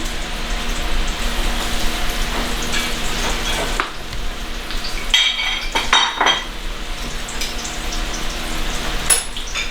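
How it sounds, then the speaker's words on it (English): Steady crackling sizzle of fish frying in a hot pan, broadband and continuous, with a few clinks of utensils and brief bursts of louder spitting. "So you can hear the sizzle when the fish goes in."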